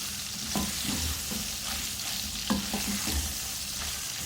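Green chillies fry with kalonji seeds, hing, cumin and spices in hot oil, a steady broadband sizzle with a few clinks and scrapes of stirring scattered through, close and moderately loud, no voices.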